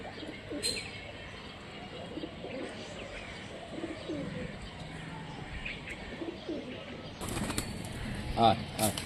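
Giribaz pigeons coo steadily nearby while someone talks, and a burst of flapping wings rises toward the end.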